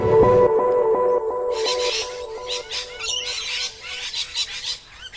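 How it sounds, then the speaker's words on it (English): Pigeons in a zoo enclosure give loud, repeated harsh calls, with bright chattering bursts overlapping a steady tonal drone through the scene; a dense, close, continuous din. "here we are by the pigeon enclosure. As you can hear, their squawks are quite deafening."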